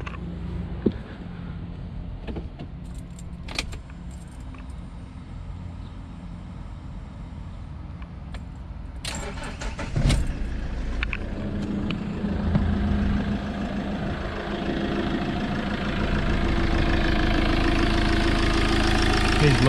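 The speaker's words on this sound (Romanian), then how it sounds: "Vă fac și o pornire să vedeți cum pornește," Fiat Ducato 2.3 Multijet van, a 2007 model, with its diesel engine idling steadily at close range, then starting and settling into a louder, rougher idle for the last few seconds; a few brief knocks and clicks occur along the way.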